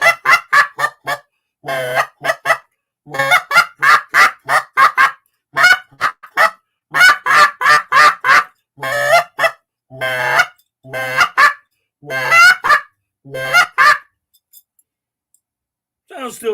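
An old goose call, not blown in years, honks out a long run of short, loud goose-like blasts in rhythmic clusters, imitating geese, then trails off into quiet at the end.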